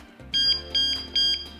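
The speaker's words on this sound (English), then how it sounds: "it's gonna give you the chirp to let them know that this bike is armed, don't touch it" A DŌST bike alarm lock gives three short, bright electronic chirps in quick succession, close and clear with no talking.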